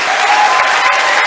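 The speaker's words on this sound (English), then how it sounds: "I think you should stand up and applaud" Audience applause at a 100th birthday celebration in a London hotel ballroom, a loud, dense, steady wash of many hands clapping together, close and continuous.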